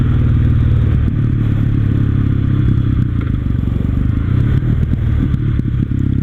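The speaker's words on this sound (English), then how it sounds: "I like all the little pops and crackles on decel as you slow down." Kawasaki W800 cafe racer motorcycle ridden with steady, loud engine drone and exhaust rumble recorded close from a helmet-mounted mic, with faint scattered crackling over the low engine note as it slows.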